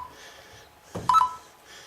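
A geophone app on a phone, giving a short electronic beep when the screen is tapped, preceded by a soft thump and heard close and alone over faint background.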